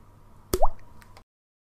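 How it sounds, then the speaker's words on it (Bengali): Lemon juice squeezed from a slice drips into a cup of tea, making a single close, soft plop with a small liquid bloop, then quiet. "এক ফালি লেবু নিয়ে কয়েক ফোঁটা রস চিপে দিয়ে দিচ্ছি"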